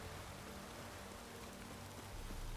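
Steady rain in The Witcher 3 on Nintendo Switch, an even, faint hiss of falling drops with no voices over it.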